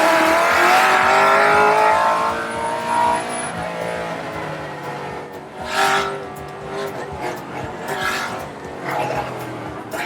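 A Nissan 240SX engine roars and revs hard with tire squeal as the car drifts, the pitch rising and falling as it powers through turns, loud and close.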